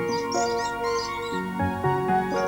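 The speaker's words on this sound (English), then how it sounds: "the air is filled with birdsong." Birdsong chirps and trills high above a steady bed of sustained tonal music at the Umgeni River Bird Park, the bird calls fairly faint and recurring throughout.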